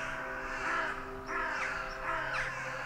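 Blackbirds in the Margrave video game give three harsh rasping caws at even intervals over a faint steady background hum.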